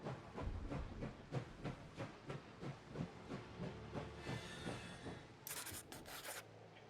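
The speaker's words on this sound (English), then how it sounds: "now we can move the train and reach our destination." A train in a video game moves along with a rhythmic series of wheel clatters and rumbles, steam hissing in and a short bright burst near the end, fairly quiet throughout.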